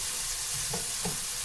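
Minced garlic sizzles in hot oil in a pan for broccolini, a steady close hiss with a couple of soft bubbling pops.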